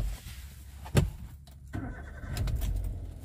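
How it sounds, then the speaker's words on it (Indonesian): A 2013 Toyota Avanza G manual MPV starting up: a sharp starter crank and ignition burst, a brief lull, then the engine catching and settling into a smooth, steady idle close by. "Kita nyalakan mesinnya teman-teman dari mobil Avanza ini."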